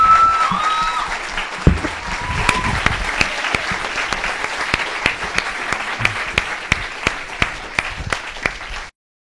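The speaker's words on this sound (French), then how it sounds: "Est-ce qu'on les a applaudis?" An audience applauds after a Christmas show, loud dense clapping that starts strong and thins to a few scattered claps before stopping abruptly.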